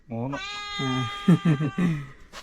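A mother cat with kittens cries in drawn-out, low, strained yowls followed by a string of short, choppy calls, close by and fairly loud.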